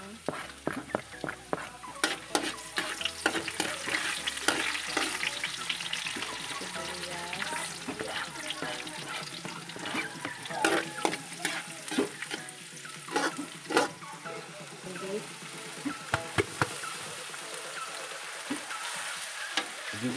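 Garlic sautéing in a pan for spaghetti, a continuous sizzle and crackle with scattered sharp clinks of a utensil against the pan, under intermittent talking.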